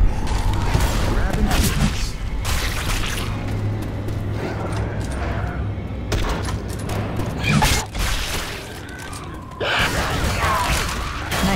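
A full-auto shotgun in Left 4 Dead 2 fires dense bursts of heavy blasts amid mechanical clatter and chaotic game noise, loud and continuous with brief lulls.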